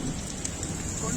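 Steady rain falls outdoors around Kurnool district in Andhra Pradesh, a dense continuous hiss of drops on surfaces, with a voice talking over it.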